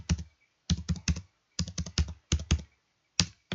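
Computer keyboard keys clicking in short bursts of close, crisp taps with brief pauses between groups, ending on a single firmer keystroke like Enter being pressed.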